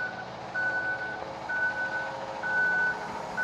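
A concrete truck reverses at a building site, its backup alarm sounding steady evenly spaced beeps over a continuous low diesel engine rumble, fairly close and loud.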